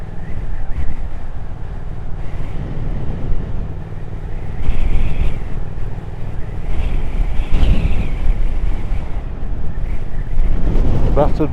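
Strong, gusty wind batters the microphone on the Wild Atlantic Way coast, giving a continuous loud roar with surging gusts. Faint motor or road noise sits underneath.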